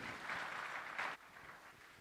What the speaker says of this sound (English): a big round of applause to our esteemed panelists